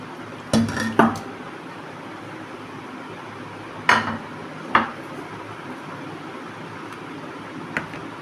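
Pieces of beef go into a pressure cooker in a few distinct clunks and clinks, two close together, then two more and a faint last knock over quiet room hum.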